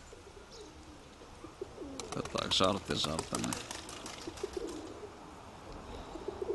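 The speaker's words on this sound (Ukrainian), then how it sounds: "Це 43 голубка, ну вона льотчиця взагалі скажена." Pigeons coo in low, throaty repeated calls close by, with someone speaking briefly over them and soft fluttering in the background.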